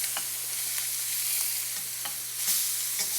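A burger sizzles in a stainless steel pan while a metal spatula scrapes and taps against the steel in brief, irregular strokes over a steady frying hiss.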